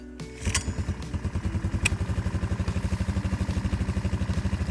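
After a pull on the manual starter, the Motoland Wildtrack ATV quad engine fires and settles into a steady, close, evenly pulsing idle.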